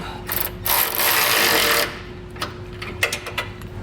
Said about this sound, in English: you are gonna need a wrench, and that way you can put it on the back side while you tighten up the nut